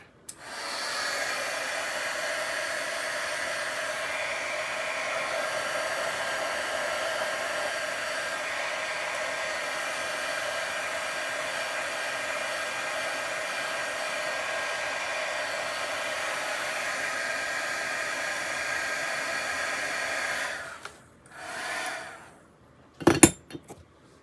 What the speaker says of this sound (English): I keep my heat gun in a mason jar.